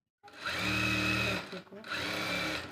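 A sewing machine stitches a blouse in two quick, loud bursts of whirring, rattling needle strokes separated by a brief pause.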